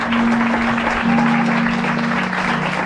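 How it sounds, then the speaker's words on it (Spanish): A church congregation claps loudly and continuously for a few seconds, with a sustained musical tone running beneath the applause. "¿Por qué no le da un fuerte aplauso a Dios?"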